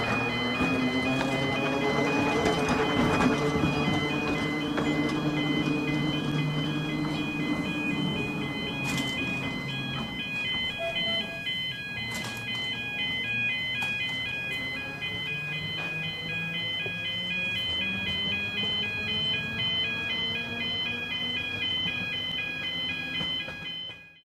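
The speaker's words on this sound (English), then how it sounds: "the next Seaton-bound tram approaches Colliford in the shape of tram number 8" Seaton Tramway narrow gauge tram number 8, built in 1968 in Eastbourne, approaching Colliford in East Devon: a steady electric motor hum with rising and falling whine, humming continuously and fairly loud throughout.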